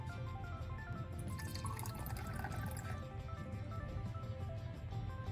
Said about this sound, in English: Grab a small glass cup, pour in some water, and add a spoonful of salt.